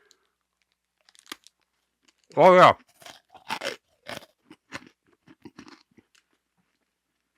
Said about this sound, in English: you needed to be able to hear the crunch because I could feel it